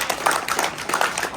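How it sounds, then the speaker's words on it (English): Kids at an outdoor Keepers of the Old Ways rigging class give themselves a round of applause: a steady, dense patter of many small hands clapping at moderate distance, with no talk over it. "Y'all give yourselves a round of applause."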